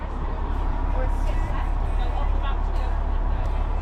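Street traffic on a tour in Skagway, Alaska, with a tour bus idling nearby: a steady, loud low rumble of engines and road noise, with a murmur of crowd chatter over it throughout.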